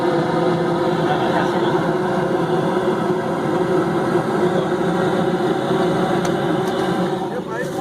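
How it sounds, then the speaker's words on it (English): Rooftop HVAC unit heater running with its inducer fan on during the ignition sequence, a steady close mechanical hum and whir throughout, with some talk over it. "So we got the inducer running, then we have the ignition for the spark."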